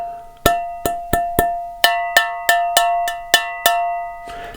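A metal loudspeaker struck repeatedly rings like a bell, giving ten sharp, clear metallic strikes in an uneven rhythm, each with a sustained tonal decay, close and loud, followed by a brief burst of noise.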